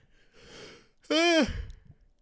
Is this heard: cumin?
no